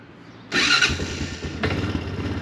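A 2007 Honda Foreman ATV engine cranks briefly after being choked, then catches and settles into a loud, close, steady idle with a small surge near the end.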